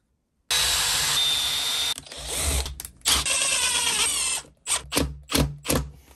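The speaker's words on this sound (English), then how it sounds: "I'm going to drill again because I want to plug it" A power drill bores holes in wood for plugs on a small birdhouse. One long, loud whine comes first, then a series of short, sharp drilling bursts with brief pauses between them.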